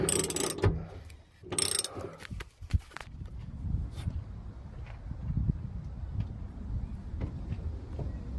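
A ratchet fitted with a 16mm spark plug socket tightening a CB radio mount on a 4x4, with quick clicking ratchet strokes, brief loud metallic rattles at first, then steady close clicks.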